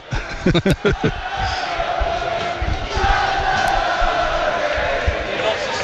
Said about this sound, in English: it is the Eastleigh fans making all the noise away to the right